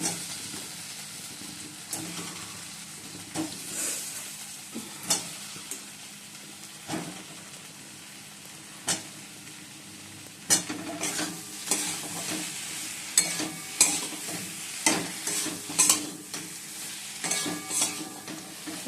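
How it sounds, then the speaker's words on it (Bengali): Spiced masala of ginger, garlic, onion, tomato, cumin and coriander powder frying in a pan with fried potatoes for a Bengali fish curry, a steady low sizzle broken by repeated scrapes and stirring knocks of a spatula, close and without talk. "মশলাটা ভালোভাবে কষিয়ে নিচ্ছি"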